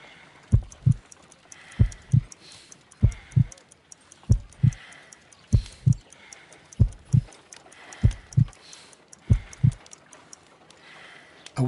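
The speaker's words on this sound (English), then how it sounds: "I need to concentrate and count the heartbeats." A slow, weak heartbeat of about 50 beats per minute thumps in regular double beats, around nine pairs in a row, close and clear over a quiet background.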